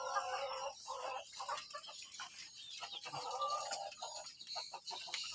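Soft, repeated clucking and chattering of a three-month-old male red junglefowl, close and fairly quiet, with small scratchy sounds in between.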